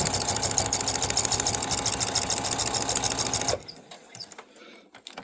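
A sewing machine stitches a quilted wall hanging, whirring in a fast, steady run close by, then stops abruptly, leaving faint handling noises.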